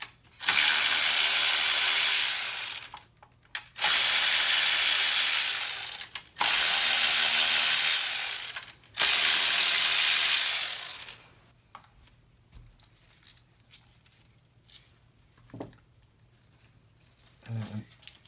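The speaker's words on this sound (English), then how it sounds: "And undo the coil pack bolts." A ratchet wrench clicks in four long, loud bursts, loosening the coil pack bolts on a Toyota MR2, followed by quieter clinks and handling noises.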